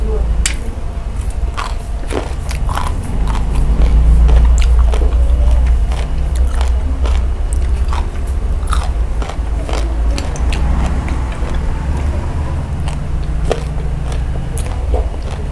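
Close, loud crunching and chewing of sour fermented pork skin eaten with whole chili peppers, with rapid repeated bites and mouth noises running throughout over a steady low background hum, while someone speaks.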